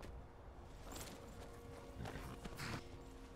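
A horse's hooves clip-clop at a steady walking pace in the Skyrim video game, faint and close, with a few sharper scraping hits near the end.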